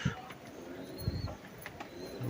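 An original-breed pigeon coos softly in low, throaty bursts, fairly close, over a faint background hiss.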